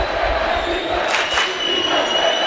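Home crowd roaring and cheering in a gym during a boys high school basketball game, American Fork hosting Lone Peak, a loud sustained wash of voices with a swell in the middle.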